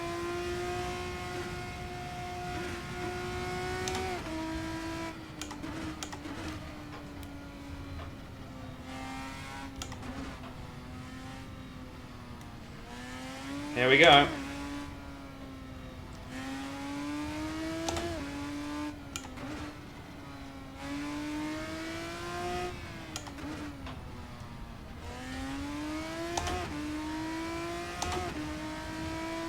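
A Formula 1 car in Assetto Corsa revs hard through repeated gear changes, its engine pitch climbing and dropping again and again at moderate volume, with one brief sharp knock midway and a short spoken remark near the start.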